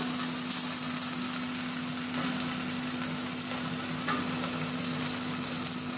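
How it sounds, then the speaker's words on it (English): Onions and baby corn frying in a hot pan with garlic, a steady, even sizzle running throughout at moderate loudness, with a faint constant hum beneath and no talking. "Now I'm going to add in some onions. I'm going to throw in some baby corn."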